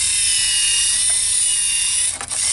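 The plastic gears of a Lego Mindstorms robot make a brief ratcheting grind near the end of the clip. A steady motor whine runs underneath from start to finish.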